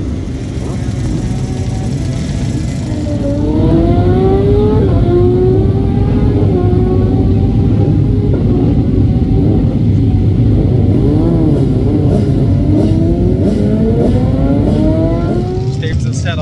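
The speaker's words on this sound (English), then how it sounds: "Steve's just set off there on his lap, hopefully all goes to plan on the Kawasaki." A Kawasaki race motorcycle at the Manx Grand Prix on the Isle of Man sets off on its lap, its engine revving and rising in pitch through the gears. The sound is loud and sustained, with a voice talking over it.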